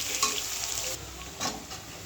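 Onions frying in a pan while cooking mutton, a soft continuous sizzle with a couple of brief stirring scrapes, close and fairly quiet, no voices.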